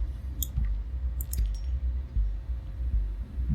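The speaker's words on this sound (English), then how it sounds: "It sounds like a heartbeat." Subnautica underwater scene with a low, soft rhythmic thumping like a heartbeat, beating steadily under faint clicks and ambient hum.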